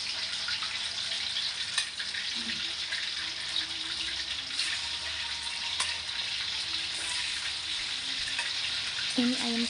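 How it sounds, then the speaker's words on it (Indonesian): Steady hiss and sizzle of spiced, pre-simmered chicken frying in hot oil, close and continuous, with faint voices in the background. "Ini aku mau goreng ayam yang tadi udah kita ungkep. Kita goreng ayamnya."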